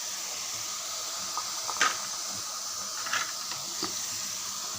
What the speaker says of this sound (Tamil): இந்த மசாலாவை ஊற்றுறது காய்ஸ்.